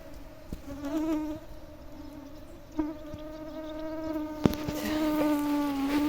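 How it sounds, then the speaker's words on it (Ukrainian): Mosquitoes whine close to the ear outdoors on a morning walk among flowers, a steady high-pitched buzz that swells and wavers, with small bumps and rustles behind it. "комарі."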